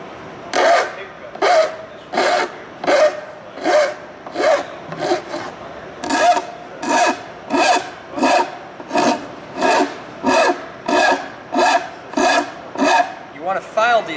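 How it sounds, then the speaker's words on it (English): Gentle filing strokes on a plastic part clamped in a soft-jaw vise, a steady rasping rhythm of about twenty close, even back-and-forth passes with brief pauses between them. "So it's a gentle filing down."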